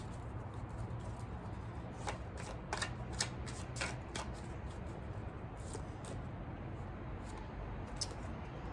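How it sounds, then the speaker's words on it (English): Tarot cards shuffled by hand nearby: a soft, papery riffling with a few brighter slaps and flicks over low background noise, fairly quiet and with no talk. "Cards are flying out all over the place."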